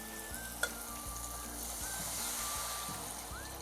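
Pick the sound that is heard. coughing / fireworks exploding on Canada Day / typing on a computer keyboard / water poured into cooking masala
water poured into cooking masala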